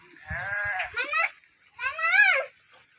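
Two wavering bleats from sheep nearby, one after another with a short pause, plus a few low thumps at the start.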